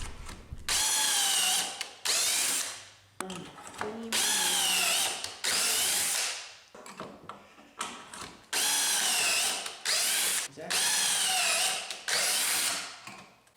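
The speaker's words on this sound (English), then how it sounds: "now I'm screwing pocket holes into the top aprons to attach to the tabletop" A power drill drives screws into pocket holes in wooden table aprons, whining in several sustained bursts that rise in pitch and then cut off, loud and close with brief pauses between.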